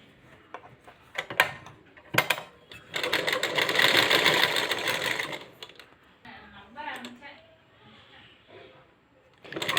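A sewing machine stitches joined strips of fabric into a cord. Short rattling bursts come first, then a longer steady run of rapid mechanical stitching, followed by softer intermittent clicks and handling noises.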